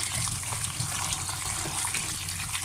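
Meat being rinsed in a bowl of water, with steady close sloshing and gushing throughout and no talking.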